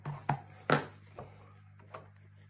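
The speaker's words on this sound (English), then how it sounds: "just burnish it on." Paper is burnished by hand onto an album cover, heard as a few soft, separate rubbing and tapping strokes at close range in a quiet room, spaced unevenly with low hum beneath.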